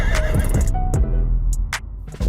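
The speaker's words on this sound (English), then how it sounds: "Horses won't stop galloping just because you want to look cool." A horse whinnies over a fast rumbling gallop in a game scene, with hoof thuds and sharp clanking transients, loud and close.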